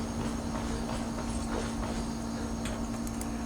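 Horse hooves clip-clop steadily in the Skyrim game world, a soft, even rhythm of footfalls set against a constant low hum and background ambience.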